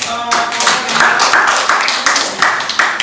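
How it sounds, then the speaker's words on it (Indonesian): Classroom applause for a student group's answer, a steady round of many hands clapping close by, fairly loud and rhythmic throughout. "Oke, berikan aplaus dulu untuk"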